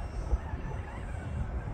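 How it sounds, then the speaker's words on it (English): A steady low engine roar with broadband wind-like rumble, moderately loud and continuous, from a 64mm electric ducted fan on a flying Freewing MiG-15 model jet. "Sound like a big engine."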